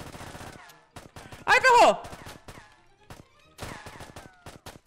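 Gunfire crackles in the video game Fortnite, a loud burst of rapid shots near the middle with sharp single cracks around it, while a player talks over the action.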